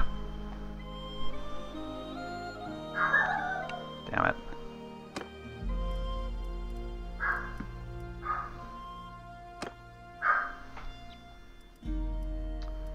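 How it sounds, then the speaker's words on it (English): A dog in the Mount and Blade 2: Bannerlord video game gives several short barks and yips spaced a few seconds apart, over game music and ambient hum, with someone talking in between. "Oh, there's my dog."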